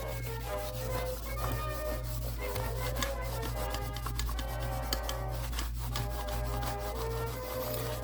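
A paper towel rubs excess cleaner or polish off the painted, lettered body of a Lionel 6460 crane car, giving a close, steady scrubbing and wiping texture that runs continuously over a constant low hum.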